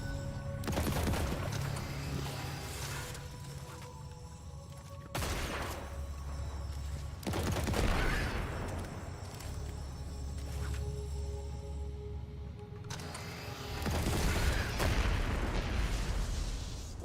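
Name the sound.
explosions and gunfire in the video game Destiny 2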